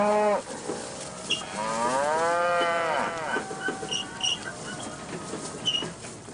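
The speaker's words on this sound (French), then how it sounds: "Nous laissons les vaches paître seules ici 1 ou 2 semaines." Cattle grazing as a herd in British Columbia: several loud, drawn-out moos follow one another, the longest swelling in the middle, with softer calls and rustling around them in the open air.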